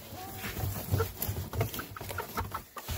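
Two-month-old Partridge Chantecler chickens, including a young rooster, clucking and squawking close by, a busy series of short calls over farmyard background noise.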